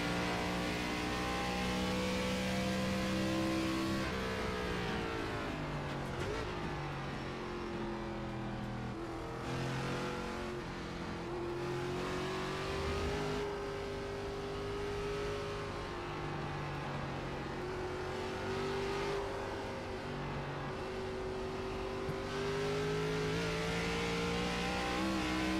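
A race car engine in the iRacing simulator drones steadily near and loud, its pitch rising and falling through repeated acceleration, gear shifts and lifts as the car circles the track.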